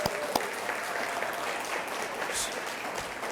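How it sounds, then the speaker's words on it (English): At a Newcomer Center anniversary celebration, the crowd greets the assistant principal with steady, even applause that carries on throughout, heard somewhat faintly from a distance. "give Miss Odabasa a round of applause"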